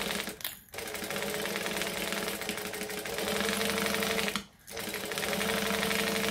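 A sewing machine runs steadily while stitching a bag seam, a fast even mechanical chatter that continues almost throughout, with two brief pauses where the stitching stops.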